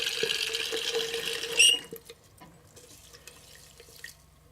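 Water running from a tap into a container for soaking seeds before planting, a steady hiss and splash that stops abruptly, followed by faint drips, clinks and small handling noises.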